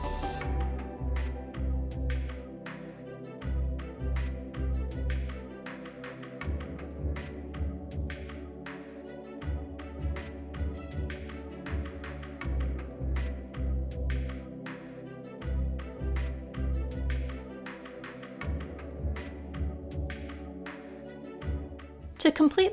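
A sewing machine stitches the bodice lining of a small ball-jointed doll sundress. It runs in rhythmic bursts of low throbbing pulses and rapid ticking needle strokes, with short pauses between runs.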